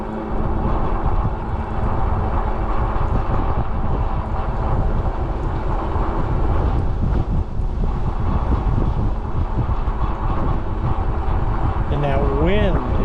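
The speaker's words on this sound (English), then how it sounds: "And that wind is incredible." Strong wind buffets the microphone during an e-bike ride on an Upper Tampa Bay trail in Florida, a loud, continuous rushing roar that persists throughout.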